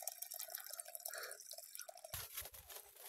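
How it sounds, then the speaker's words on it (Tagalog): Water flows and drips from a small makeshift wooden dam built on a forest stream, a steady trickling wash that stays fairly faint throughout and grows rougher and fuller in the last second. "Ayan, umaagos na ang tubig dito."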